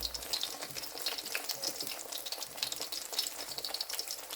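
Onion pakoras (bhaji) with chillies frying in hot oil, a steady dense crackling sizzle that runs close and continuous throughout with no voices.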